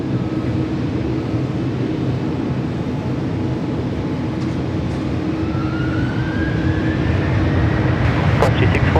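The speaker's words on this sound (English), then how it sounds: "Finnair A330 about to go kick it and rip it." A Finnair A330 airliner takes off at Sydney Airport with a loud, continuous engine roar, a steady low rumble carrying a rising whine that climbs and swells toward the end.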